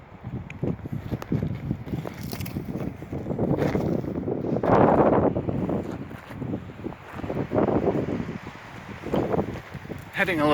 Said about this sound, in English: Getting a little windy. Sorry if you're getting a lot of wind sounds in the video.